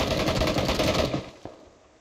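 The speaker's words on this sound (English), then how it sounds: "Shooting from enemy." Burst of enemy gunfire in PlayerUnknown's Battlegrounds, a loud sustained rattle of automatic shots for about a second that cuts off into a quieter tail with one faint distant crack.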